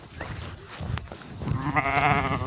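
Sheep bleat in a wavering, nasal chorus that swells in the second half, with scattered rustling and farmyard noise beneath.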